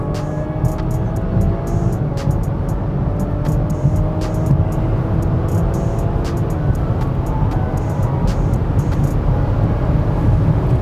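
A BMW with a bootmod3 flash tune accelerates hard through first and second gear, a loud, sustained engine drone with rising tones and faint ticking above.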